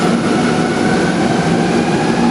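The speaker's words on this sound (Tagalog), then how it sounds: "MRT tayo ngayon, MRT tayo ngayon mga guys." Manila MRT metro train riding, a steady loud interior rumble and hum of the rolling carriage with faint wheel-on-rail texture, continuous and close with no talk.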